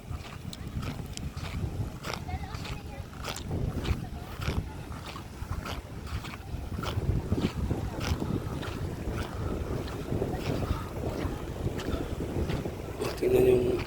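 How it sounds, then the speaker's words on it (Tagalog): A small boat crossing open water near Manjuyod Sandbar in Negros Oriental, with steady wind buffeting the microphone, engine rumble and water noise, and voices speaking over it. "Yung bangka sinasakyan namin guys"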